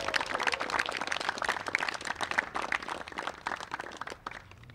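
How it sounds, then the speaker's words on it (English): A tennis crowd at a North Greenville vs. King college match claps for the ball boys and girls, a dense patter of many hands that swells and then gradually thins. "Let's give them a round of applause."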